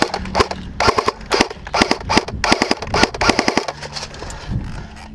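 An ASG AUG A3 MP airsoft gun fires in close, loud bursts of sharp cracks, rapid strings broken by short pauses, with no voices.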